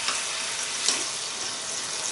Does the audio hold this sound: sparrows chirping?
no